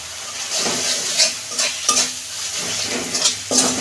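A spice masala with chili powder and ginger is fried and stirred in a pan, giving loud close sizzling with sharp rhythmic scrapes of a spatula every half second or so.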